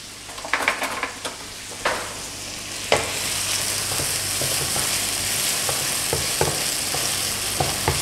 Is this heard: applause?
no